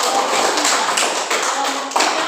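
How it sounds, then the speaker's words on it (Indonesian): A classroom of students claps together, a quick run of close, sharp hand claps in an uneven rhythm, loud and bright with no talking. "kita berikan tepuk tangan"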